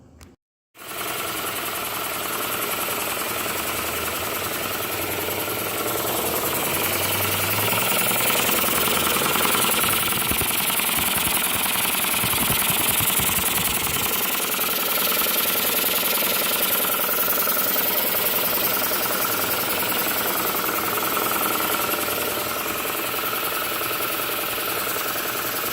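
An old air compressor with a worn cord runs steadily after being plugged in, a loud, continuous mechanical hum with knocking vibration that starts abruptly and holds for the rest of the clip.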